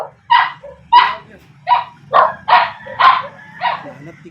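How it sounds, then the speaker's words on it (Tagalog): A dog barks about seven times in a steady, evenly spaced series, each bark sharp and fairly close, over a low hum in the background. "Maingay yung aso natin."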